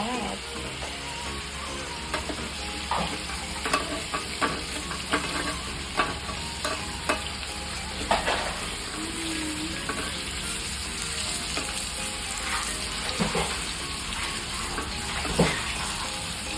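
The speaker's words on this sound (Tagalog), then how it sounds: "Hihintayin nga lang natin siya kumulo ng kumulo hanggang sa medyo kumonti na yung kanyang sabaw" A home-cooked lunch dish sizzles and simmers in sauce in a pan, a steady frying hiss broken by repeated close stirring scrapes and clinks.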